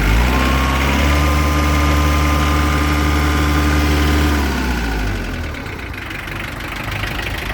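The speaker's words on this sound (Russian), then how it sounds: "Прекрасно работает двигатель." A Japanese mini tractor with power steering and hydraulic tilt runs its engine close by, a steady loud knocking diesel-like drone that shifts pitch and eases slightly partway through, with no talk.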